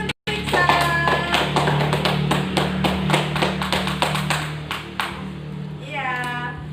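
A classroom of children claps for a student, a sustained burst of sharp handclaps at moderate loudness that thins out near the end as a voice rises over it.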